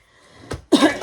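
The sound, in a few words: small cough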